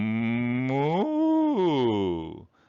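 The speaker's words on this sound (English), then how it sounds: "No, that's a cow in the field" A cow moos once, a long, loud, drawn-out bellow that rises and then falls before fading away.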